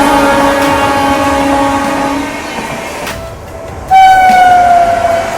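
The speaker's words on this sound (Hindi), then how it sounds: "डिब्रूगढ़ राजधानी आ रही है भाई" A Dibrugarh Rajdhani train thunders past with a steady loud roar of wheels and carriages, then a sharp bright horn blast cuts in near the end.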